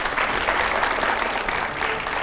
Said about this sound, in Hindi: ऑडियंस जरा जोरदार तालियां